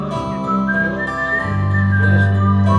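Someone whistles a short melodic tune, clear sliding notes over a low steady hum in the background.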